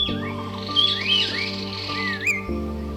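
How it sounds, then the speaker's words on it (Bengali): Birdsong at Chilla resort in Rajaji National Park: clear, close chirps and whistled calls repeating over about three seconds, set against a steady background tone. "এখানে পাখিদের কলকাতান আপনার ঘুম ভাঙাবে"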